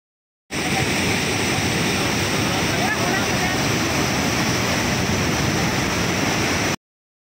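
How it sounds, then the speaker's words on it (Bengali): Water swollen by overnight rain rushes down from the hills in a loud, steady roar of dense noise that holds unbroken throughout. "কাল রাত থেকে বৃষ্টি হওয়ার জন্য পাহাড় থেকে যে জল পড়ছিল তার আওয়াজটা শুনলে বোঝা যাচ্ছে জলের গতি।"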